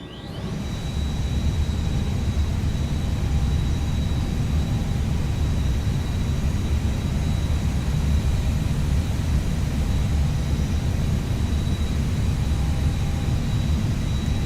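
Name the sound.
aircraft external power hum, flight simulator game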